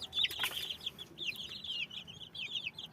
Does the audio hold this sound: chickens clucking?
yes